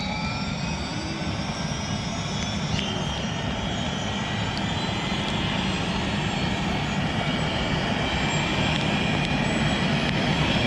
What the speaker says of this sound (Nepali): हेलिकप्टर यहाँ स्टार्टिङ भइरहेछ